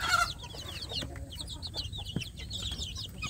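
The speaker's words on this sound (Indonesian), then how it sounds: "Pagi ini saya memberi makan anak ayam kampung saya sedulur yang ada di dalam box." Native village chicks in a box chirp and cluck busily while being fed, with a dense, continuous chatter of high peeps and occasional soft clucks close to the microphone.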